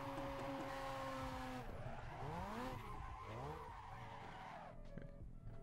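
A drifting car in the racing game Assetto Corsa skids with loud, sustained tire squeal whose pitch bends up and down through the slide over a constant engine drone, close and continuous with no talk.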